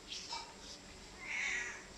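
A cat meows faintly, with a short call followed by a longer drawn-out meow against a low background hiss.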